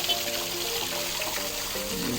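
Water falls steadily into a decorative waterfall added at Angel's Panciteria. The pour is a continuous, even splashing rush at moderate volume with no other sounds.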